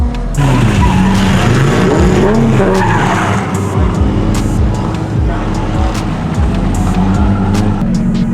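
A nitrous-equipped Nissan 370Z drifts with tires skidding and squealing loudly over a roaring engine, continuous and close, with occasional voices in the background.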